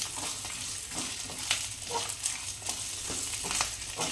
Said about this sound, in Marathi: शेंगदाणे, सगळं साहित्य एकत्र घालून परतून घ्यायचं आहे